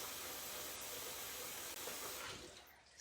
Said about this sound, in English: So I am going to rinse my whisk.